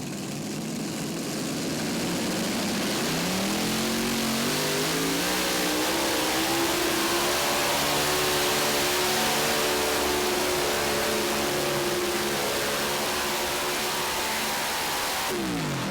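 A pulling tractor with Noonan engines roars at a tractor pull championship, its revving engines climbing steadily in pitch in one long, loud, continuous run with no talk over it.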